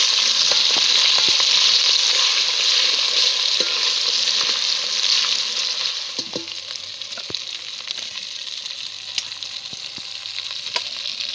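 Ground chili paste, onion, garlic and ginger fry in hot oil with crackling curry leaves, making a loud, steady sizzle. Scattered pops and spoon clicks come through, and the frying softens somewhat after the middle. No one speaks.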